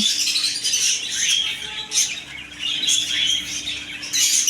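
A shop full of caged pet birds such as zebra finches and budgerigars keeps up a steady, busy twittering, with overlapping chirps and squawks swelling and easing nearby and occasional fluttering wings.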